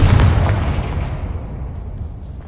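A magical Confringo fire spell in Hogwarts Legacy goes off as one loud, booming blast, then rumbles and fades away over a couple of seconds.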